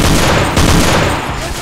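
A Bren gun fires a rapid, continuous burst in the WW2 video game Combat 1944, loud and close, with dense overlapping shots.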